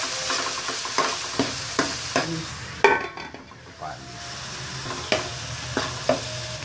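Garlic, onion and tomato sautéing in a pan for spaghetti bolognese, with a steady close sizzle broken by repeated sharp scrapes and clacks of a spatula stirring, and a brief quieter gap midway.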